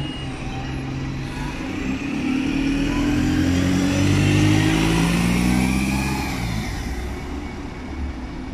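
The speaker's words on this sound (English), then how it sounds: "It's now leaving from the bus station on surface 10 to Park and Ride Waitrose in the brand new Stagecoach Local livery." A Stagecoach Local bus in new livery pulls away from Lincoln bus station, its engine rising in pitch through several gear steps as it accelerates, fairly close, then easing off as it moves away, with no talking.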